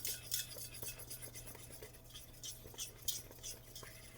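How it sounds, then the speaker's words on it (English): A spoon stirs chocolate cake mixture at a boil in a pot, giving repeated soft scrapes and light metallic clinks in an irregular rhythm, close and fairly quiet, with no talking. "Keep stirring the whole time"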